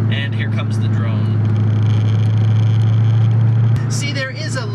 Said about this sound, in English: See, there is a little bit of drone.